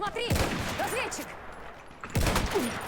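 Bursts of rifle and machine-gun fire in Battlefield 1 during a match at Brusilov Keep crack out near the start and again later, with people talking between and over the shots.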